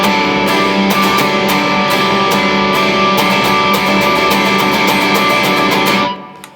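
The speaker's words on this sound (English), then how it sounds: "bar 18 is the build, and it sounds like this" Distorted electric guitar playing the building bar, a steady loud strummed riff with rhythmic accents for about six seconds before ringing off abruptly into silence.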